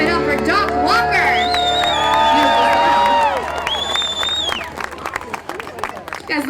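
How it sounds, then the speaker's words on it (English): A large outdoor holiday crowd at a Canadian Pacific Holiday Train concert claps and cheers loudly over music, the roar swelling and then thinning out into scattered clapping and crowd noise. "Give yourselves one more round of applause."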